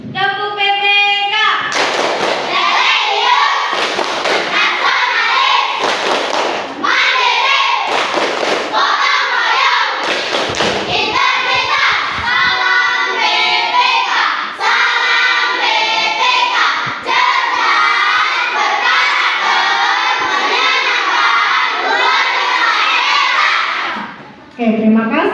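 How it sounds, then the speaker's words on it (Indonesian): Classroom children perform the PPK clapping chant, loud rhythmic group claps interleaved with chanted words led by a pupil, the pattern repeating close by for most of the stretch before a short pause. "kita akan melakukan tepuk PPK"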